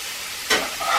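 Pork chops browning in a hot pan give a brief sizzle that flares up suddenly and then settles into a steady frying hiss. No one speaks.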